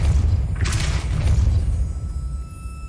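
A Depulso force spell strikes in Hogwarts Legacy: a heavy, rumbling boom with a short crash or burst of debris near the start, then the rumble slowly fades.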